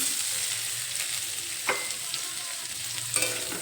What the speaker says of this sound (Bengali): সেই জন্য হাই ফ্লেমে ভেজে নেব